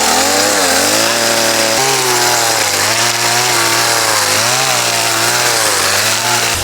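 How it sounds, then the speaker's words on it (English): A chainsaw roars loudly and continuously up close, its pitch dipping and rising as the blade planes down a wooden log. "he's actually planing it out here with the chainsaw"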